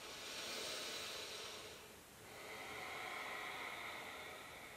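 Slow deep breathing during a yoga stretch, a long airy inhale, a brief dip, then another sustained breath, close and steady with no speech.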